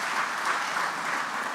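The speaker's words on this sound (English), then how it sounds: "Let's give a round of applause to our special guest of honor for joining us and accepting to be here." An audience applauds a special guest of honor at a Nigerian Independence anniversary public lecture, with steady, dense clapping from many hands that runs through the whole moment without a break.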